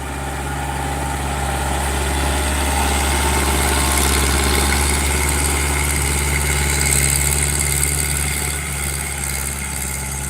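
A Kubota diesel tractor engine idles steadily through its exhaust, a deep, even rumble with a constant low throb and no voices.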